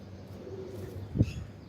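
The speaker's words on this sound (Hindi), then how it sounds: "ये बटेरा कबूतर है।" A low, soft Teddy pigeon coo rises briefly near the middle over a steady background murmur, with faint rustling around it.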